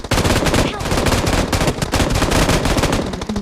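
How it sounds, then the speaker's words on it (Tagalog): A gun fires in rapid, unbroken bursts in PUBG Mobile, loud and dense, filling the whole moment. "Walang tigil yung baril ko"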